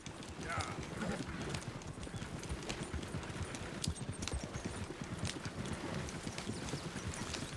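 Horse hooves clip-clop in a steady walking rhythm in the video game Red Dead Redemption 2, fairly quiet and continuous throughout.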